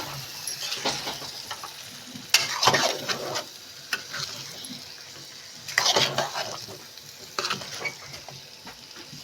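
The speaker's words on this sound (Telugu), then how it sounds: "ఇప్పుడు బెండకాయ వేసేసుకోవాలా. దాన్ని కూడా బాగా కలుపుకోవాలా." Sliced okra stirred and fried in a hot pan: a steady sizzle runs throughout, broken by several louder bursts of scraping and stirring at irregular intervals.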